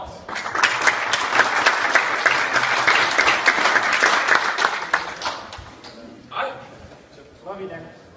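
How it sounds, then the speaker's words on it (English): Enthusiastic audience applause at a company open house event, loud dense clapping for about five seconds that fades out, followed by a couple of brief spoken voices. "Big round of applause"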